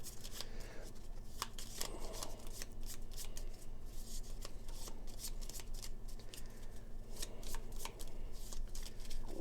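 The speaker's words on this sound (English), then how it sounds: "so we've got to get this whole thing shuffled in." Gloomhaven attack modifier cards are shuffled continuously, a steady flutter of rapid riffles and soft slaps close by, with faint voices in the background.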